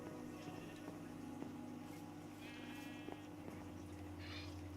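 Minecraft sheep give a couple of short, faint bleats near the middle and end, set against continuous game music and ambient hum, with no one speaking.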